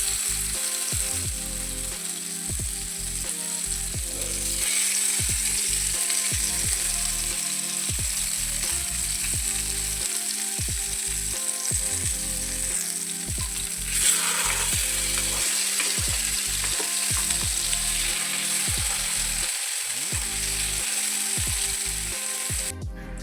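Two pieces sizzle steadily in hot oil in a home kitchen pan, a continuous crackling fry heard close and alone with no talk, with some faint clinks in the background.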